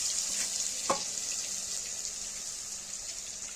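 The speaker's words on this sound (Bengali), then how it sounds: "রসুন বাটাটা দিয়ে পরে একটু এটা ভেজে নিব" Garlic paste frying in a pan for a fish and cauliflower curry, giving a soft, steady hiss with one brief clink near the start, fairly faint and close, with no talking.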